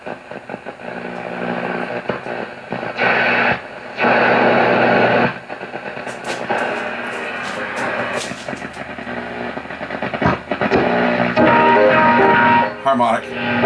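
Shortwave reception on an 87-year-old Stromberg Carlson 58L antique tube radio tuned across the 20 meter band: steady hiss and static with shifting tones, bursts of louder noise and brief chirps as the dial moves.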